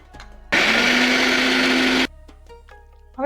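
A kitchen blender whirs loudly for about a second and a half, grinding garlic, salt, cumin, coriander and a little water into a paste, starting and stopping abruptly with brief quiet clatter before and after.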